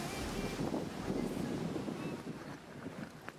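Quiet surf washing onto a beach in Morocco, a soft continuous rush of waves heard faintly from a distance with some wind noise on the microphone.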